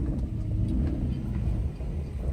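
A Mercedes 600SL with a repaired E-gas throttle control module pulls through a U-turn, its engine giving a steady low rumble up close with no clear revving.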